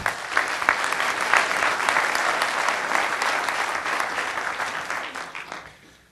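Sustained applause from an audience, loud and steady throughout, tapering off at the very end.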